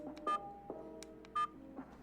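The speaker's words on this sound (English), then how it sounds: "every time you press a button, it makes a lovely phone tone" Button presses on a budget 1080p dashcam trigger short electronic tones like telephone keypad dialing, two distinct beeps plus fainter clicks, quiet and close.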